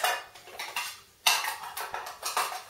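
A metal frying pan, bowls and a small plastic measuring cup clatter and clink as they are handled, a run of close, uneven knocks and scrapes with a brief lull partway through.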